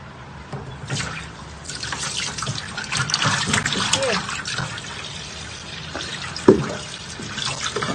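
Water rushes quickly down the drain of a freshly unclogged kitchen sink, a continuous close splashing gurgle with a few sharper knocks.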